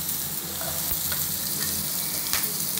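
Finely chopped onions and green chillies sizzle in hot oil in a pan for a tamarind bitter gourd stew, a constant crackling hiss with a few sharp pops and stirring scrapes, close and steady.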